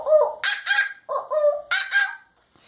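A voice imitates a monkey with a run of six high, excited hooting calls in quick pairs, loud and close, ending in a brief pause.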